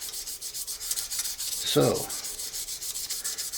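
Sandpaper rubs steadily against the repaired section of a snakeskin-patterned pen, making a continuous close scratchy swishing with a regular back-and-forth rhythm and a brief louder scrape partway through; one short spoken word is heard.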